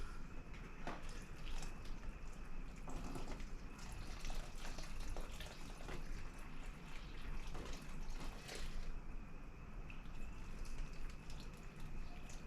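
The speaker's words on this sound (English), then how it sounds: "I'm watering them really good." Water pours steadily from a jug onto potted sweet potato slips, a continuous splashing and trickling into soil that runs without a break, close by and moderately loud.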